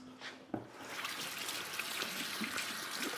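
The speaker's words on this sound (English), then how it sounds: "I'm just going to wash my hands." Tap water runs steadily into a kitchen sink for hand washing, a continuous close trickle and splash after a brief knock near the start, with no talking.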